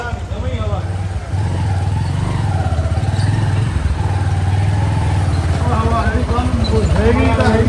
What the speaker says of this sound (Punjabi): ਸਾਡਾ ਯਾਰ ਕਾਲੀਆ ਮੰਨ ਗਿਆ ਸੀ ਲਾਵਾਂਗੇ ਮੋਟਰਸਾਈਕਲ ਤੇ ਲੱਤ